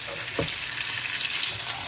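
Tomato dropped into a hot pan where fish is cooking, giving a loud, steady frying sizzle with crackling close by and no talk.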